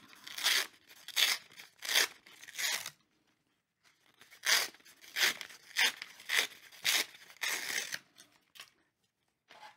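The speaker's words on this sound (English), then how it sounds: "Our next step is to peel the paper off of both sides of our Pegasus tail." Paper peeled off the foam board tail of an FT EZ Pegasus model plane, a close series of short ripping, crinkling tears in two bursts with a pause between.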